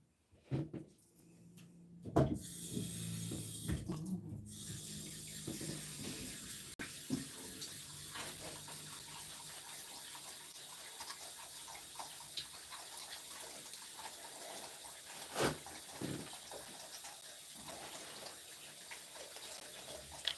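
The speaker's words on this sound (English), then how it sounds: "I'm just going to wash my face." A bathroom tap runs steadily for face washing, a continuous nearby stream of water with a few splashes and knocks as hands move under it, no talk.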